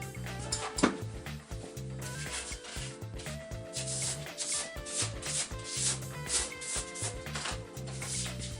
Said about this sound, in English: to scrape it in the direction of the grain, because if you go across the grain, you're very likely to split the veneer